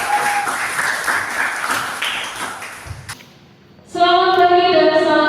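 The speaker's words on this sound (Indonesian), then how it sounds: "mari tepuk tangan" An audience at a school gathering for SMK Negeri 1 claps steadily for about three seconds, a dense, loud patter that fades to near silence before a bright musical tone sequence begins.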